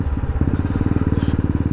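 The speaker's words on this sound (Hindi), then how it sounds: "अभी ये जो बाइक अभी मैं चला रहा हूँ ये बस जवानी का जोश है" A motorcycle is ridden along with its engine thrumming in a steady, rapid pulse, close and fairly loud from start to finish.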